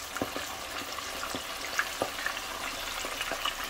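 Buffalo fish deep frying in hot oil at about 360 degrees, giving a steady close crackling sizzle with scattered sharper pops throughout.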